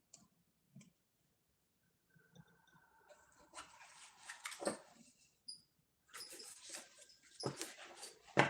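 A dog whimpers and whines intermittently at close range, with brief high squeaks, faint clicking and rustling between the cries, and a sharper burst near the end.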